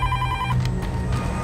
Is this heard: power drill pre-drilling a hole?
no